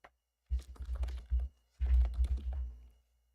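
Fast clattery keystrokes on a worn, sticky computer keyboard in two dense bursts of about a second each, close and clear with no talk over them.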